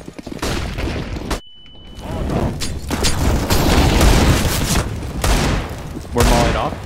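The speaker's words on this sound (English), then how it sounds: "Flashbang." In Counter-Strike, flashbang grenades and gunfire crack and boom in loud repeated bursts, with a brief ringing tone after one blast, while players talk over the action.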